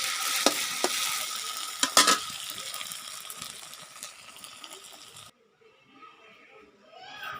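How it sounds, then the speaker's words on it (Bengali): Potatoes frying in a pan sizzle with a steady broadband hiss and a few sharp clatters of stirring, then the sizzle cuts off abruptly, leaving quieter room sound. "মাছ ভাজার সাথে আলু ভাজা খেতে অনেক মজা হবে, তাই জন্য ভাবলাম আলু ভেজে দিই"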